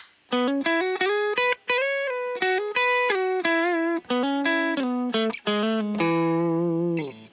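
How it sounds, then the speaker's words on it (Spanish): A Gretsch Electromatic Jet G5230T electric guitar played clean on its bridge pickup, a quick run of plucked single notes with a bright, twangy tone, ending on a longer sustained note. "Así suena la guitarra originalmente sin ningún tipo de efectos."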